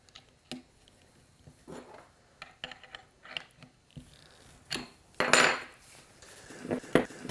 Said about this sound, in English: we'll mount that in our MFK 700 router